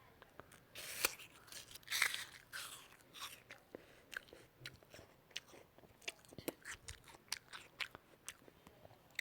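Crisp bites into a crunchy honey apple followed by steady chewing, close and intimate with sharp crunches spread across the clip, no talking.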